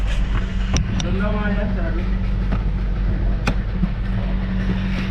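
A constant low mechanical hum comes from the right side of a Toyota Vios transmission, with occasional sharp ticks. A person speaks briefly over the noise.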